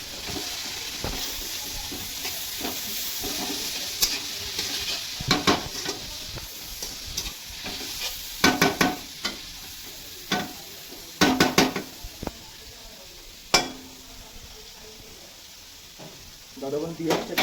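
Chopped onions with a pinch of salt sizzle steadily in a pan, softening without browning, while a spoon or spatula scrapes and taps the metal in irregular bursts, close up with no talking.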